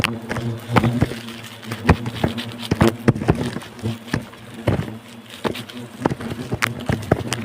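Wasps buzz loudly around their nest as it is being harvested, a steady droning hum with many close, sharp wingbeat passes and scattered crackling taps.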